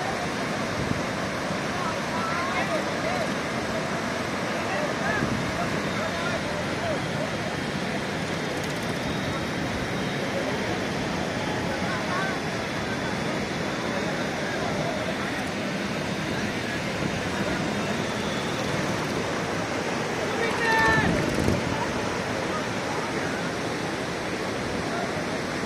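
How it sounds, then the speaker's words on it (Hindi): The fast-flowing Ganga at Rishikesh gives a steady, loud rushing roar of water that holds unbroken throughout, with a brief louder swell of noise near the end. "इतना वेग है पानी में, इतना तेज है,"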